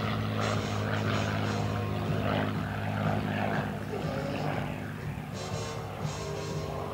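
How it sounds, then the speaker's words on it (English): A P-51D Mustang propeller fighter performs an 8-point roll at the 2012 Tuscaloosa Regional Air Show, its engine a steady loud droning hum with a strong low tone, overlaid by an announcer's voice. "Look at this precision of the P-51D Mustang."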